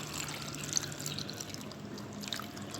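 Water is poured steadily into a cooking pot for a dal recipe, making a continuous close splashing trickle with no talking.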